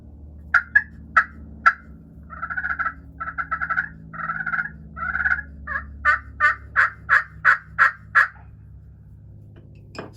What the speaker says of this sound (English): it's great if you just want to cut and purr at those turkeys